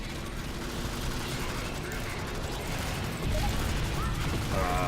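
Rapid gunfire from the Alien Swarm: Reactive Drop video game rattles continuously at moderate level, mixed with game effects and someone talking over it.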